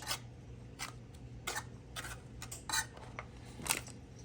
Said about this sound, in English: I'll take the whisk and smush it around.